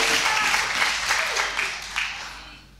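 A church congregation claps for the Lord during a Sunday service, dense loud applause that swells briefly and then tapers off within a few seconds.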